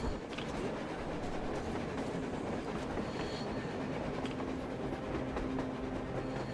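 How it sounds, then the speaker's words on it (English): A train rolls along rails in the video game Metro Exodus, a continuous rumbling clatter of wheels with faint squeals drifting through, steady and fairly distant, with no voices. "A train! A damn train on the surface!"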